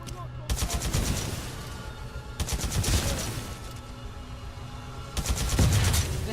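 Rapid bursts of video game gunfire from a Titanfall 2 weapon, three loud rattling volleys separated by short pauses, with a steady background hum between them.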